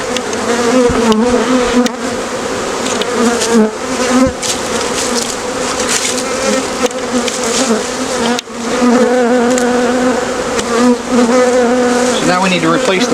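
Honey bees swarm and buzz around hive frames during a spring colony split, a dense, loud, close-up drone that holds steady for the whole stretch with no talking.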